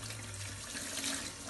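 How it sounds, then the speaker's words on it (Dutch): Faint running water rinsing shampoo out of a human-hair wig, a soft, steady splashing hiss from a tap, alone and quiet over the short stretch. "Zo, de shampoo heb ik nu goed uitgespoeld."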